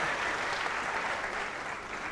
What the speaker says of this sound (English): You should have applauded more.